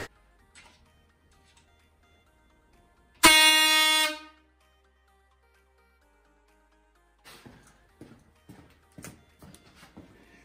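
A cheap air horn gives one loud, harsh blast of roughly a second, standing alone in near silence, followed later by scattered quiet knocks and handling sounds.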